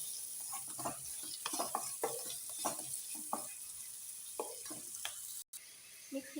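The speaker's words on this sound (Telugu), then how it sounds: "మంచి రంగు వచ్చే వరకు వేయించుకోవాలండి ఇవి కూడాను." Ivy gourd masala fries in a pan as it is stirred, giving repeated scraping strokes over a soft, steady sizzle, fairly quiet with no talking.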